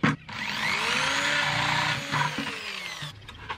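A power drill with a 3/8-inch bit bores holes in the bottom of a container, a steady whining drone that rises and falls and stops abruptly, close and loud.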